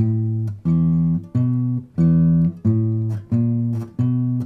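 Low plucked guitar notes step along one after another in a steady walking bass rhythm, each note clear and ringing, played alone.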